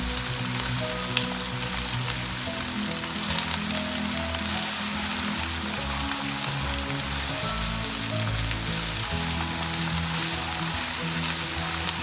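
Mixed vegetables stir-fry with soy sauce for Singapore rice, a continuous close sizzle with rhythmic tossing and scraping in the pan, no talking.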